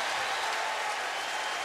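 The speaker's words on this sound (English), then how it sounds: "The crowd alive in Charlottesville." Stadium crowd at a 2014 UCLA at Virginia college football game in Charlottesville roars after a kick return, a dense, steady wash of cheering noise at full volume throughout.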